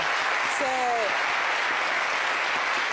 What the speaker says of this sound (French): on va applaudir un peu pour Ariel Chené